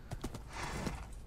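In the video game Minecraft, a horse's hooves clip-clop in a quick, regular rhythm. The hoofbeats are fairly close and moderately loud, with a soft rushing wash behind them and no talk.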